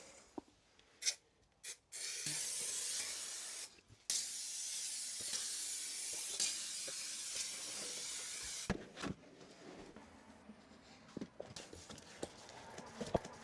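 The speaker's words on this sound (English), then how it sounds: "you're supposed to spray the floor and the vinyl itself" Steady hissing spray bursts out in long pulls over a floor and vinyl, broken by short pauses and light taps and scrapes, close and fairly quiet.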